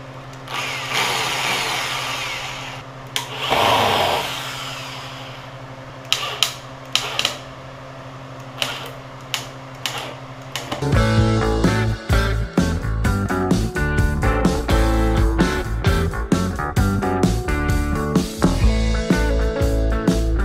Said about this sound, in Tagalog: gamit tayo dito ng barena. Gagamitan natin siya ng wood screw.